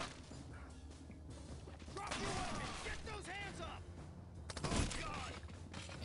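Gunfire in the co-op tactical shooter SWAT 4, a sharp burst of shots amid game sounds, with a louder crack near the end while players talk and laugh over it.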